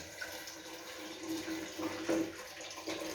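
Fresh orange juice pours steadily into a container close by, a continuous splashing trickle with small bubbling surges.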